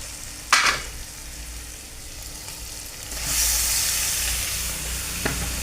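Prawns marinated in chili powder, turmeric, coriander powder, salt and pepper hit a pan with curry leaves for a prawn roast: a utensil clack, then a sizzle that swells loud and steady, close by with no speech.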